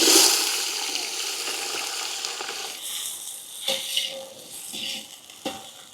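Sliced onions with fennel seeds and cumin hit hot oil for a white chicken biryani, giving a loud opening sizzle that fades into a steady frying hiss, broken by a few scraping stirs and clatters near the end.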